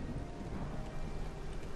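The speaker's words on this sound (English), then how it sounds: "Now the rain starts." Steady rain hisses and patters continuously, with a low rumble of thunder underneath, like a distant storm, unbroken by voices; in-game weather in Morrowind.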